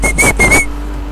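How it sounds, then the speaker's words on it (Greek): A person whistles a few short, bright tones in bursts over roughly half a second, near and fairly loud, during a Need for Speed Rivals racing game session, then it stops and only low background hum remains. "Γιατί σφυρίζεις?"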